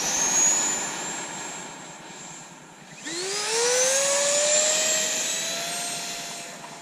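A Freewing F-22 Raptor 90mm electric ducted-fan RC jet flies past, a loud steady turbine-like whine that dips, then surges with a rising pitch sweep as it climbs away, with no talking.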